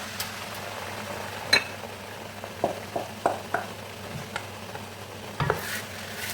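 Blended tomatoes and pepper with onions are stirred in a pot over a low, steady sizzle, with scattered soft spoon scrapes and knocks against the pot close by, and no voices.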